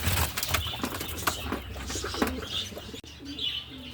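Racing pigeons coo repeatedly, soft throaty calls with faint chirps and wing flutters mixed into steady outdoor background noise during a pigeon race in Atimonan, Quezon.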